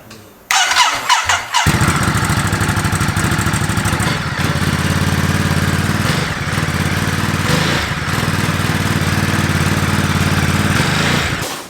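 A Ducati Monster 937 motorcycle with a Termignoni exhaust cranks over and fires up, then settles into a loud, steady, throbbing idle close by for about ten seconds before cutting off.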